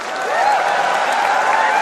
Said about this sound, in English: I think Akshay deserves a round of applause.